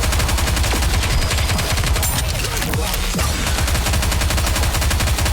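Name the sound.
gunfire in the video game Goddess of Victory: NIKKE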